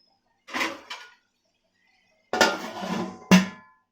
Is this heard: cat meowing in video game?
no